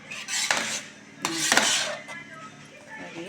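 Metal pots of cooked sago clatter and scrape in two bursts of clanking, close by, with a brief quieter scrape afterward.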